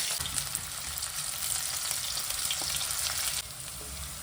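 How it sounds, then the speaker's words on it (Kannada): Onions fry in hot oil in a pan for street-style egg Manchurian. A continuous loud, bright sizzle carries on steadily, drops slightly near the end, and has no talk over it. "ಸೊ ಇವಾಗ ಎಣ್ಣೆ ಸ್ವಲ್ಪ ಕಾಯಕ್ಕಿಟ್ಟಿದ್ದೀನಿ. ಇವಾಗ ಸ್ವಲ್ಪ ಈರುಳ್ಳಿ ಹಾಕ್ತಾಯಿದ್ದೀನಿ."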